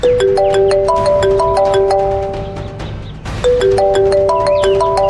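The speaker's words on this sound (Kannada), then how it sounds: "ಯಾವ್ದೋ ಫೋನ್ ಬರ್ತಿದೆ. ಒಂದ್ ನಿಮಿಷ ಇರು, ಬೇರೆ ಯಾವ್ದೋ ನಂಬರ್ ಇಂದ ಫೋನ್ ಬರ್ತಿದೆ." Phone ringtone of an incoming call: a loud, bright electronic melody of repeating stepped tones, playing twice with a brief dip between the phrases and no talk over it.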